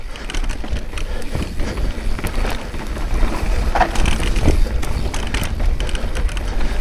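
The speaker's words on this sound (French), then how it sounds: "Je sais pas si c'est le moteur ou les pattes de break qui rattle." Rattling and clattering from a new Norco Sight VLT TQ electric mountain bike, the motor or brake pads shaking loose while riding a rough trail, busy mechanical ticking and rattles over tire rumble and wind.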